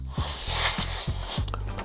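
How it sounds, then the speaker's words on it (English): An electronic duster sprays a steady airy hiss close by to blow lint off an iPhone XS Max before a tempered glass screen protector is fitted, with a few soft low thumps and handling knocks along the way. "always hold on to these electronic dusters. I spray this to help get rid of extra lint"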